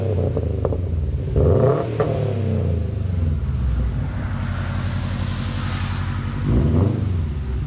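A 2017 Subaru STI, all-wheel drive with a stick shift, factory Y-pipe and muffler delete, idles with a loud, close, rumbling exhaust note and blips the throttle into short revs that swell and fall back.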